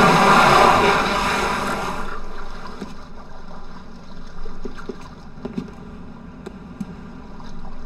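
Boat engine pulling away from a pier in The Punisher video game, opening with a loud rushing churn of water and motor that fades within seconds into a quieter background hum with scattered small knocks.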